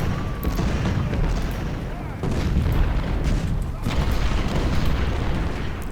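Ultimate General: Civil War at the First Battle of Bull Run: continuous rumbling cannon fire and crackling musket volleys, with repeated booms rolling under a steady battle din.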